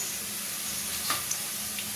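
Oil heating in a wok (kadai) gives off a steady, close sizzle with a few faint crackles and pops, and no voices.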